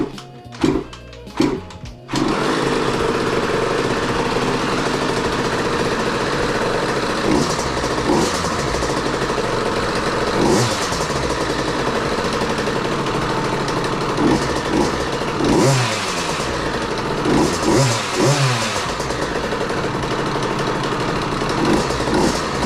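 A KTM 50 SX dirt bike sits on a stand for its first start after a new IRP clutch install: a few thumps, then the small engine fires and idles loudly with repeated revving blips.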